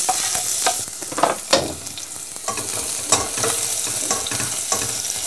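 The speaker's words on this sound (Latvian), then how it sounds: "Sakarsētajā eļļā lieku ķiploku." Garlic sizzling and frying in hot oil in a home kitchen pan, with steady crackling hiss and several louder stirring scrapes and spikes, close and clear with no talking.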